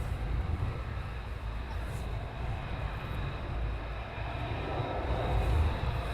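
Eurofighter Typhoon jets taxiing at RAF Coningsby during NATO exercise Steadfast Noon 2022, a steady loud jet engine roar with deep rumble and whine that swells slightly near the end, under a commentator's voice.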